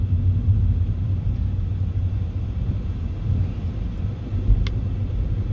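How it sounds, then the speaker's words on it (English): Steady low rumble of a Volkswagen Vento TSI cruising at 50 to 60 km/h, a constant engine and road drone heard from inside the cabin with no talking. "I'm driving at 50 to 60 kilometers an hour, and the ride quality feels very compliant"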